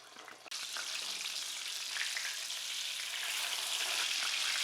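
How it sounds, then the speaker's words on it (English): A breaded steak fries in canola oil in a deep skillet, giving a sudden burst of loud, steady crackling sizzle that holds and swells slightly, with no talking. "Fry one breaded steak for about 2 minutes per side or until golden brown on both sides."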